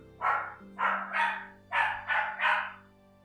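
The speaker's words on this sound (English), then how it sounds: "That's my dog" A pet dog barks six times in two quick groups of three, loud and close, with a low steady hum underneath and no talking.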